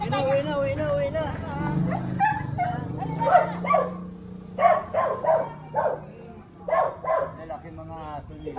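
Several male dogs bark and yip in short bursts, fairly close, mixed with people chatting nearby on a street in Commonwealth, Quezon City, Philippines.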